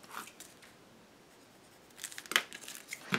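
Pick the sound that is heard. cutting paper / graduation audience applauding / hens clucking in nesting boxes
cutting paper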